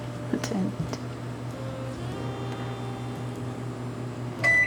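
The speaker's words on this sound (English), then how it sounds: "And then I just put it in the microwave" A steady low hum drones from a running microwave oven melting butter, with a few small clicks and knocks nearby and a brief beep-like tone near the end.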